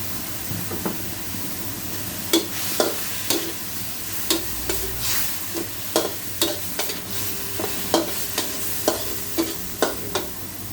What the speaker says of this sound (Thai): ใส่พริกน้อย ผัดให้สุกก่อน